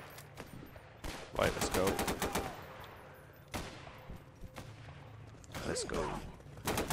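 Gunfire in a Garry's Mod zombie horde fight: rapid automatic bursts of sharp shots, a long string early, then scattered cracks and another burst, fairly close, while someone talks over parts of it.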